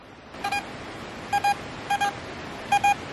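Minelab Vista X metal detector with a 15-inch coil sounding over an iron target: four short broken double beeps, evenly spaced and fairly loud over a faint hiss, no voices.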